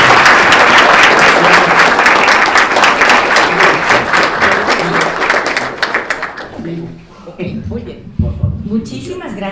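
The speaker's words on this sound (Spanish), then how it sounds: "les pido un fuerte aplauso" An audience at a public forum on water in Guadalajara applauds the moderator with a loud, dense round of clapping that fades after about six seconds, followed by a voice speaking.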